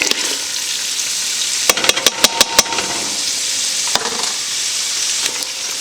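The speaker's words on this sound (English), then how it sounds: "the first thing I'm going to do is I'm going to add my onions to it" Onions hit browned butter frying in a pot for homemade chicken noodle soup, a steady loud sizzle broken by a quick run of sharp clatters and a later knock, with no voices.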